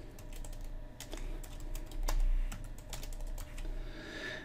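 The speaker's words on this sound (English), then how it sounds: "we can type in the company name" Typing on a computer keyboard while entering text into a business card layout in Microsoft Word 2016: a steady run of close, crisp key clicks with a few louder strokes, alone with no talk.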